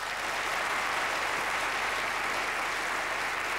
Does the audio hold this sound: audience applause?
yes